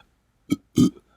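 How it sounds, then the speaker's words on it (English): Two short burps close together, the second longer and fuller, loud and near, with silence around them. "stop burping."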